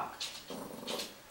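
Bruno the dog gives low, soft grumbling vocalizations on a talk command, two short moaning bursts, faint and close, with no talk over them.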